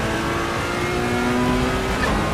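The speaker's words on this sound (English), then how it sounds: "But this car sounds and feels great." A race car in the Assetto Corsa EVO sim game on the Spa circuit, its engine a steady high-revving drone with changing pitch through a short stretch and no talk over it.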